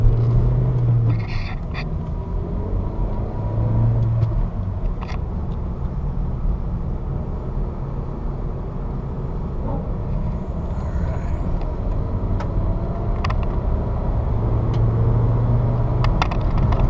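A 2008 Honda Civic LX sedan with a 5-speed manual driving along, its engine giving a steady low rumble mixed with road and tyre noise, continuous and fairly loud from inside the car.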